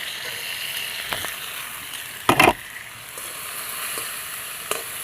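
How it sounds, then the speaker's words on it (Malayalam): Chilli and coconut mixture sautéed in a pan gives a steady close sizzle and frying hiss, with a brief louder burst of stirring scrape near the middle and a few lighter clinks later. "ഇത് എല്ലാം കൂടി നന്നായിട്ടൊന്ന് വഴറ്റിയെടുക്കണം കേട്ടോ."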